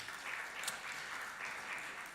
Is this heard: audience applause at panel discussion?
yes